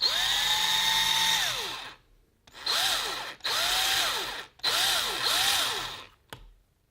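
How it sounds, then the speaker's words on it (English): A power drill whines in several bursts, drilling at an angle into a Manfrotto 546B tripod spreader, the pitch dipping and rising as it bites in, with short pauses between runs. "Now I'm drilling it at an angle"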